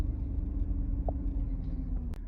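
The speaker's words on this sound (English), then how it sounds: "Okay, now we're driving." A Porsche Cayenne 958 rolls slowly after a rear brake service, giving a steady, low, quiet engine and road rumble with a faint click near the end.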